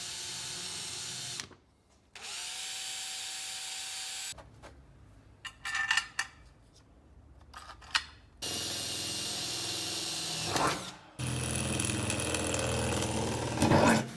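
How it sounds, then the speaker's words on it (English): A power drill pre-drilling black plastic wedges whirs in several bursts, starting and stopping with short pauses between, loud and close, with a longer final run. "your dad's just pre-drilling the black wedges so that they fit nicely"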